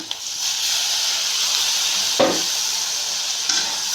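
Chopped tomatoes fry in a pan with a steady, loud hiss and sizzle, broken by a couple of brief stirring scrapes from a spatula close to the microphone.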